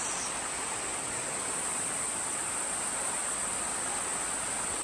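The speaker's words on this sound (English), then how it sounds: "As you can see below is the McLean's Creek." McLean's Creek in the Daintree rainforest rushes steadily below, a constant broadband wash of flowing water with a high insect-like whine overhead, no voices.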